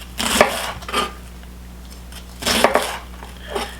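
A knife slices through cabbage on a cutting board in two pairs of crisp crunching strokes, close and clear, with no talking.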